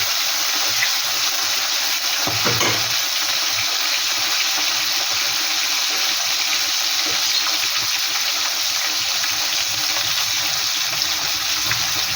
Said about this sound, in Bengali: কড়াইতে তেল দিয়ে দিয়েছি, তেলটাও গরম হয়ে গেছে। আজকে ভোলা মাছের আমি সর্ষে পোস্ত করবো, তাই মাছগুলো আমি ভালো করে ভেজে নিচ্ছি